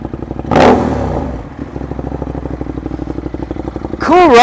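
A four-wheeled Triumph motorcycle passes with a steady, throbbing engine note that rises loudly at the start and again at the end as it rides by, with brief speech faintly mixed in.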